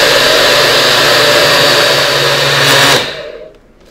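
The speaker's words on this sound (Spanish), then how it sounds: "Y aquí lo tapamos y no lo llevamos a moler de 2 a 3 minutos" Blender grinding beet and pineapple with water to make agua fresca, a loud steady whirring roar that runs without a break, then cuts off near the end and quickly fades away.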